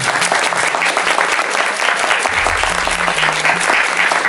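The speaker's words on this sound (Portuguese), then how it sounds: "uma salva de palmas para o mestre Mojica" An audience at a film screening event applauds a veteran horror filmmaker: loud, sustained clapping from a packed room, continuous throughout, with a low murmur and faint voices beneath it.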